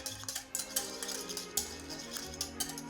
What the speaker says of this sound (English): Just give them a quick little whisk.